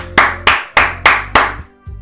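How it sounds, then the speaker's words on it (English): Five loud, evenly spaced claps of applause in the video game Doki Doki Literature Club ring out at a steady, deliberate pace, each with a short echoing tail, followed by a softer sixth. "I'm the first to start applauding. Everyone joins me afterward."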